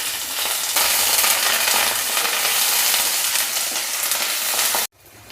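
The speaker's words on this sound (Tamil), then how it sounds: "வெங்காயம் பூண்டு மட்டும் வதக்கிடுவோம்." Shallots, curry leaves and garlic sautéing in hot oil, a loud, close, continuous frying sizzle with faint stirring, cutting off sharply near the end.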